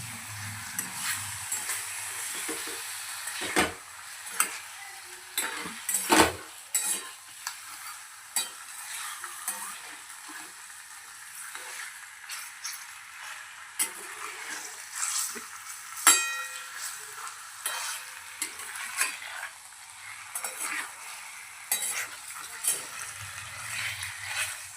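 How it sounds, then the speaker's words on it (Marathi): Bangda fish curry masala sautéing in ginger and garlic gives a steady frying sizzle for the whole stretch, with repeated stirring scrapes and occasional louder knocks of the spoon against the pan. "अद्रक लसणामध्ये परतून घेऊया."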